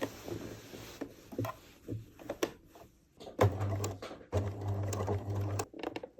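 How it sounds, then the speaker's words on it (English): Sewing machine stitching the base square of a buttonhole on a child's dress, several short bursts of close whirring stitching separated by pauses and small handling taps, the later runs longer and louder. "I'm stitching the base square with the machine first"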